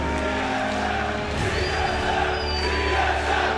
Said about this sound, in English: as you can hear the crowd cheering